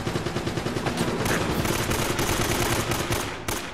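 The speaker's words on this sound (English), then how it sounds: "Whatever this gun is, it's shooting me like freaking nutjob." Sustained enemy gunfire in Uncharted: Drake's Fortune, a loud, rapid automatic stream of shots close by that keeps going almost the whole time before easing off at the end.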